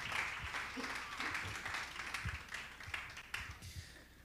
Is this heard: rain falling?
no